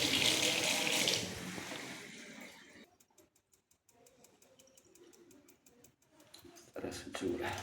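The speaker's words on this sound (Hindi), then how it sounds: "देख सकते हैं कि नल चालू कर रहे हैं तो यहाँ से पानी गिर रहा है।" A running tap pours water into a sink basin with a leaking waste coupling. The rushing flow is loud at first, drops away to a quiet trickle and faint dripping, then surges back near the end.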